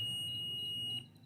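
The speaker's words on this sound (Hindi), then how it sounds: "मैं दोनों लीडों को शॉर्ट कर रहा हूँ तो मेरे पास ये बज़र बज रहा है।" A multimeter's continuity buzzer sounds a steady, shrill, high tone while its test leads are shorted together, holding for about a second before cutting off abruptly.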